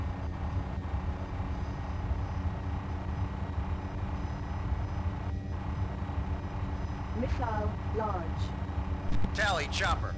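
Helicopter rotor and engine noise from the video game Team Apache, a steady loud drone throughout, with synthesized cockpit voice callouts breaking in near the end.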